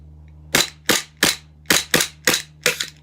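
An airsoft gas pistol fires seven sharp, loud cracks at fairly even intervals, each with a short decay over a low steady background hum, with no talking.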